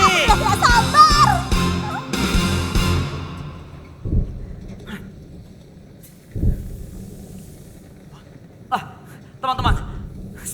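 Rumbling storm effects from an Indonesian animated musical, with deep thunder-like booms and blustery noise that follow music and singing. Three separate low thumps come in later, loud and close.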